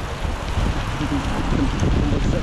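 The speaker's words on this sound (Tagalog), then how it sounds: "Lakas po kasi yung hangin Malakas dito." Strong wind buffets the microphone in an open outdoor area on the way to a tilapia island, a steady roaring rumble that continues throughout with no voices.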